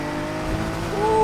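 A Nissan R32 in Need for Speed Heat drives with a steady engine drone, and a rising tire squeal cuts in near the end, loud and close.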